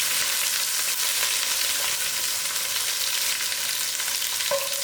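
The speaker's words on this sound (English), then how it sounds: "And I allow this to fry out." Onions fry in a pan with a steady, dense sizzle and crackle that holds for the whole stretch, fairly loud and close, with a faint clink near the end; no one speaks.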